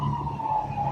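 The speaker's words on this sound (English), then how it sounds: "there go an ambulance." An ambulance siren passes outside, a loud, steady wailing tone holding through the short moment with no talk over it.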